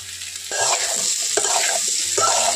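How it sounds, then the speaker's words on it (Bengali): Jackfruit frying with turmeric in an oily wok, stirred with a utensil that scrapes and clatters in bursts over a continuous close sizzle. "খুব ভালো করে এখন কিন্তু এটাকে নাড়াচাড়া করে নেব।"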